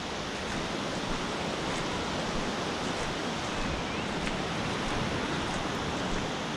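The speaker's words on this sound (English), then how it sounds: "waves crashing" Ocean surf rolls and crashes at Old Orchard Beach, Maine, a dense continuous roar of breaking waves heard close up with no voices.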